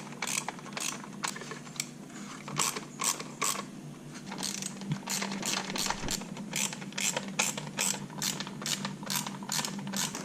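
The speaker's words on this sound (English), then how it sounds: "we'll go ahead and start putting in our other screws" Screws being driven with a ratcheting tool to mount grille lights on a truck, a close, repetitive series of mechanical clicks and whirring bursts with a steady hum underneath.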